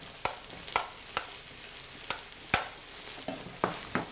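Red onion and vegetarian filling stirred in a frying pan, a low continuous sizzle broken by about ten sharp spoon scrapes and taps at irregular intervals, close up with no voices.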